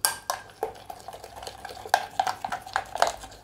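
Curd whisked into mung dal, chana dal and spinach chilla batter in a bowl, a spoon knocking and scraping against the sides in quick irregular strokes, close and clear with no voices.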